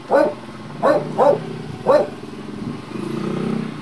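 A dog barks four times, close and moderately loud, in uneven short bursts, followed by a low growling murmur.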